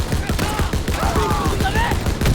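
Rapid gunfire from a World War II battle in Call of Duty WWII, a dense fusillade of overlapping shots hammering steadily throughout, loud and close, with faint voices mixed in.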